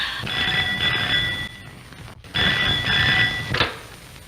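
An old-fashioned telephone rings in a home: two loud, bright electric bell bursts about a second long each, separated by a short pause, with no talk over them.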